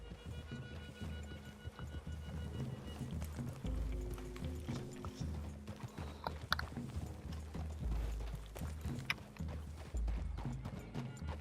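Horses galloping through trees in Red Dead Redemption, with steady hoof clip-clop, rumbling movement and an occasional snort, continuous and fairly close with no talk over it.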